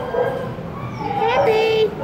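A roughly two-year-old male dog at an animal shelter kennel gives high whimpers and yips that rise and wobble, mixed with a person's voice close by.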